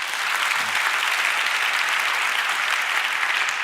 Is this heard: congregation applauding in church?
yes